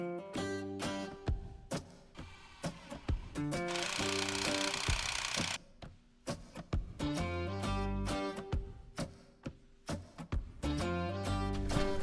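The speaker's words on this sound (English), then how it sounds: "So we're gonna try to put this screw in and work it out that way." A screw is driven into a swollen wooden sill plate against concrete during a shower and tub install, with repeated bursts of power-driver whirring and clunking, stops and restarts, and a sustained grinding stretch midway.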